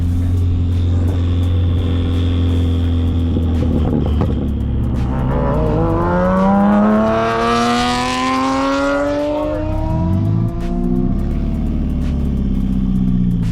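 A modified Audi A4 drift car engine drones steadily while driving, then revs up in a rising sweep that peaks and settles back, loud and close throughout.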